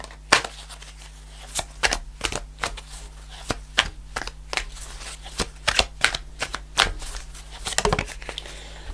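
Tarot cards are shuffled and pulled by hand, giving a dense run of crisp, close snaps and riffles at an uneven rhythm, with a faint low hum behind.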